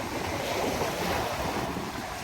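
Sea waves and wind at a beach on a cold day: a steady, full roar of surf with wind buffeting the microphone throughout.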